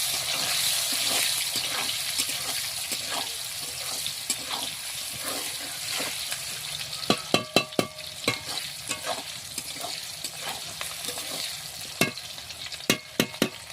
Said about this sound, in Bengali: পেঁয়াজ দিয়ে দিচ্ছি, একটু লাল লাল করে ভেজে নেব।